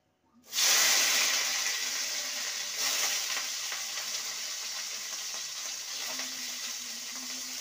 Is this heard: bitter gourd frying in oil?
yes